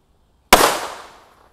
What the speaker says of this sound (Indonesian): Ini namanya cracker ball.